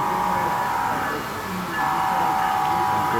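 WA 305 model locomotive rolling past at a model railroad show in a mall, a steady mechanical rumble with a faint whine that dips briefly mid-pass, heard from close by with crowd murmur in the background.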